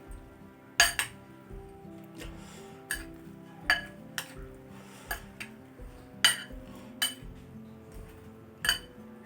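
Metal spoon scraping and clinking against a pot while potato biryani is stirred together, a series of sharp clanks at irregular intervals over a low steady hum.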